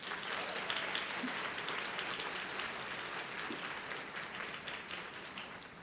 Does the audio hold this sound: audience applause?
yes